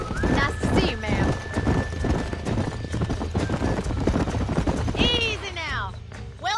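Horses in the video game Red Dead Redemption clip-clop at a steady walking pace, hooves close and continuous, with a loud whinny near the end and voices speaking over the hoofbeats.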